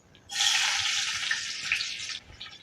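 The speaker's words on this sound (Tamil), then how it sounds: "வெந்தயம் பொரிஞ்சது இப்போ வெங்காயம் சேர்த்துக்கிறேன்" Sliced onion dropped into hot oil with popped fenugreek seeds for a tamarind curry, giving a sudden loud, steady sizzle that holds for about two seconds and then fades back down.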